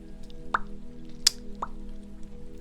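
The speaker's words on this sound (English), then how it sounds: "pop where you flick your cheek? I do." Three short, hollow pops spaced unevenly, like a cheek being flicked, over a quiet low hum.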